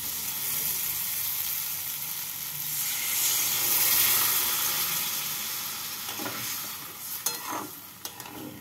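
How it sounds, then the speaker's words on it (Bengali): Water poured into a hot pan of fried chhana curry sets off a loud, sustained hiss and sizzle that swells and then eases, with sharp utensil scrapes and clinks near the end. "এবার এর মধ্যে দিয়ে দেব পরিমাণ মতো জল।"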